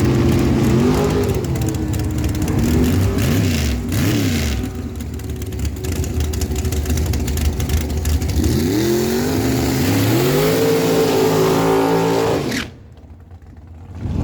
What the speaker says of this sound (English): bringing in her 2004 Race Tech Dragster. It's got a 582 big block Chevy Power.